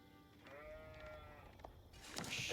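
Sheep bleating in the real-time strategy game Age of Empires IV, a wavering bleat rising over steady game ambience, followed by brighter in-game clicks and effects toward the end.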